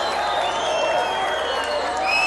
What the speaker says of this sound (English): the crowd is going wild as the last little bit